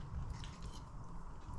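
A bite into air fryer pigs in blankets gives a short, muffled chewing crunch, close and soft, with no speech.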